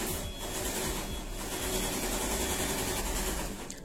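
An electric sewing machine stitching a pleated skirt runs as one continuous, fairly loud motor whir and needle buzz, holding steady for nearly four seconds before easing off at the end.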